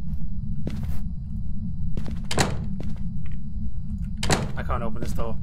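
Several dull thunks and rattles sound from a stuck door that will not open in the video game Phasmophobia, each knock brief and spaced out over a steady low hum.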